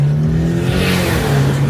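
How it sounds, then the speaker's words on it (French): A race car engine in a video game hums steadily at close range, holding an even, sustained drone with faint pitch shifts across the whole short stretch. "Ah il fait la course le père à Raph"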